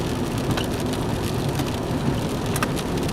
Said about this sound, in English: Made it rain again this year on us.